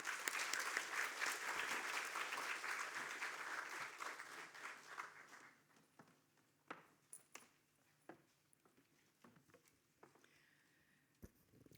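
An audience welcomes a lecturer with applause at a museum talk, a dense clapping that fades after about five seconds into scattered single claps, shuffles and small knocks in a quiet room.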